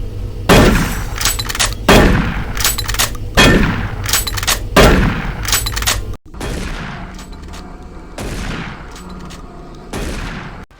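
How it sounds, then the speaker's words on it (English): Shotgun blasts from the video game Doom 3 boom loudly in a measured series, each sharp crack followed by a ringing decay and mechanical clatter, with a softer, differently textured round of shots near the end. "The shotgun also now sounds completely different too."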